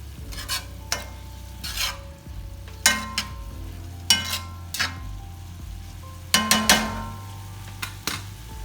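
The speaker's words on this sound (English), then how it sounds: "we want to go ahead on and add back in our shrimp" Plump shrimp sizzle in a hot pan for a shrimp and vegetable pasta, with clinking stir strokes every second or so over a steady frying hiss.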